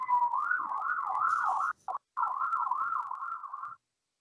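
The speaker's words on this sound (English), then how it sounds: "that was a siren." A passing emergency siren wails in a steady rising-and-falling cycle, loud and close, dropping out briefly midway before resuming and then cutting off, with no talking over it.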